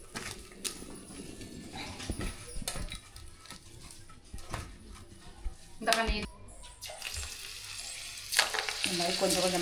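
Pumpkin pakoda fritters frying in moderately hot oil, a steady close sizzle with intermittent stirring and clinks of a utensil against the pan, plus scattered bumps and louder scraping toward the end.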